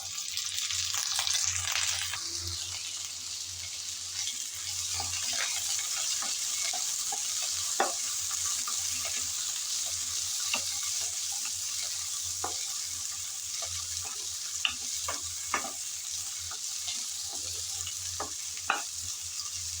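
Hog plums frying with chopped garlic and five-spice in a pan for chutney, a continuous soft sizzle broken by repeated spatula scrapes and taps as they are stirred.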